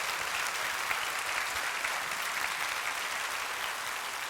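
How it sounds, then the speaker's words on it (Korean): Warm, sustained applause from a church congregation during a Sunday worship service at Jeongneung Bethel Church, a dense, steady wash of many hands clapping that fills the room without a break. "뜨거운 박수 맞으시기 바랍니다."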